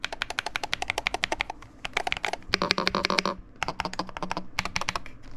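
Rapid clattering keystrokes from an MCHOSE ACE68 HE mechanical keyboard, close and crisp, in quick bursts with brief pauses between runs of typing.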